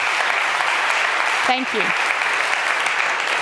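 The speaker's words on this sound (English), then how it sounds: "I want to get a round of applause for the product team, please." Audience applause at a business presentation for a product team, a steady broadband clatter of clapping filling the whole stretch, with a speaker briefly talking over it midway.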